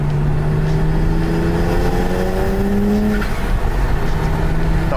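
A BMW 135i drift car drives on the road with its engine droning steadily and pitch rising and falling through the gears, close and loud throughout.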